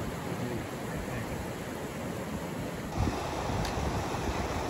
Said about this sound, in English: Yet another river crossing.